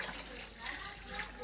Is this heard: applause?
no